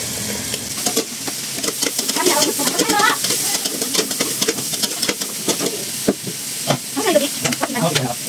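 Carrots go into a pot of creamy sopas, with close sizzling and steady scraping and stirring of a utensil against the pot, plus intermittent clacks; a voice is faintly audible underneath.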